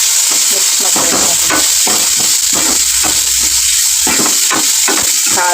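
Turmeric and a chili spice mixture stirred and frying in a pan for North Karnataka-style jhunka, a steady loud sizzle with repeated scraping strokes of the spoon.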